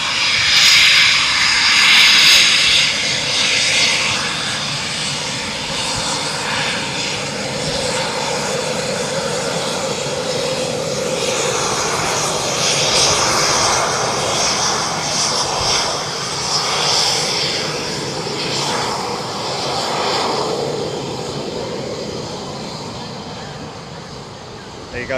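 An aircraft engine drones steadily throughout at an RAF Coningsby air display, a display plane passing with a broad, sustained roar that swells and ebbs slightly, mixed with wind and a background voice.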